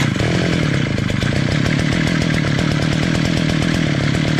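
A 43cc gas brush cutter engine runs after being choked, a loud, close, continuous buzzing two-stroke drone with a rapid pulsing beat.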